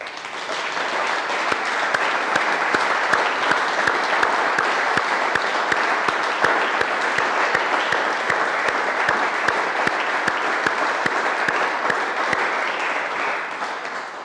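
An audience at a municipal council meeting, where newly elected officials are being installed, gives sustained, dense applause that holds at an even, loud level throughout before easing slightly at the end.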